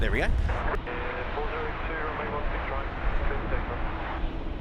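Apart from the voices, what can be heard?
China Southern Airbus A350 aircraft landing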